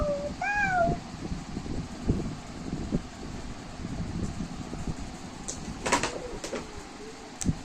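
A child imitates a cat's meow, a short rising-falling mew near the start, followed by quieter rustling and background noise.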